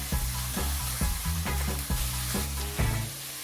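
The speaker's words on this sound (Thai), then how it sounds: "ผัดต่อเลยครับแล้วจะผัดให้ผักทั้งหมดสุกให้หมดครับ" Vegetables, cabbage among them, stir-fried in a hot pan for a Thai glass noodle dish, with steady loud sizzling and repeated scraping strokes of the spatula about every half second, close up and with no talking.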